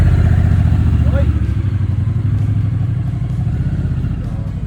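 A Honda Africa Twin motorcycle runs with a steady, close engine rumble at an even pitch throughout, while people talk over it.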